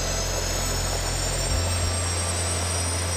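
Five small jet engines on a wearable flight suit idling at about 30,000 RPM, making a loud, steady close-up turbine whine and roar with a low rumble that shifts slightly partway through.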